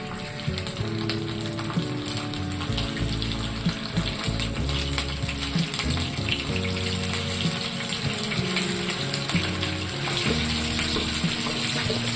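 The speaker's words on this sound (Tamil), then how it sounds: "எண்ணெய் நல்லா சூடாயிடுச்சு, மீன்களை சேர்த்துருவோம்." Koduva and big mathi fish fry in hot oil with a steady, close crackling sizzle that runs throughout. Background music plays underneath.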